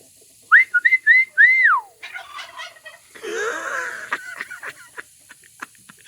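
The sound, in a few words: person imitating a turkey call, turkey calling back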